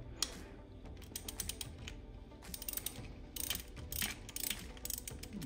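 A ratchet loosens an ignition coil bolt on a Volkswagen 1.8 TSI engine, with several runs of quick close clicking separated by brief pauses, fairly quiet overall.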